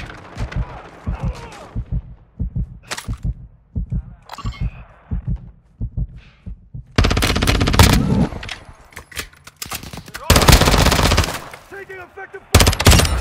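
Gunfire in Call of Duty Modern Warfare 2 multiplayer. Sharp, rhythmic shots come in quick bursts, then louder, denser volleys of automatic fire.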